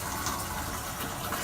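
Bathtub faucet in a Japanese hotel bathroom filling the tub under strong water pressure, a steady loud broadband rush of gushing water that continues unbroken.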